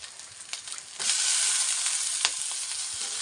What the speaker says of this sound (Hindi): तो मित्रों इसमें डाल दिया जाएगा टमाटर।